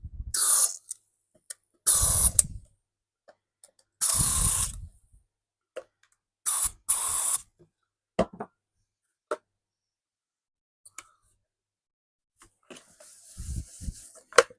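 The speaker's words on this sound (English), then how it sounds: "This is WD-40 contact cleaner. Into the contacts." WD-40 contact cleaner is sprayed into the contacts of a Tineco Floor One S3 floor cleaner that has motor start-up problems. Several short, hissing bursts come close up, separated by quiet gaps, with faint handling noise afterward.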